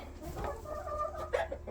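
A backyard hen clucks close by, a short run of soft clucks with a sharper note near the end over faint outdoor background.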